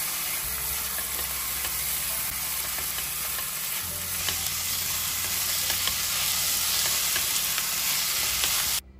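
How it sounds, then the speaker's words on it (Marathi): Diced tomato and potato fry in oil in a home cooking pan for khichdi, giving a steady, close, crackling sizzle that runs unbroken for the whole span and then cuts off abruptly at the end. "आता यात ॲड करू टोमॅटो आणि बटाटा."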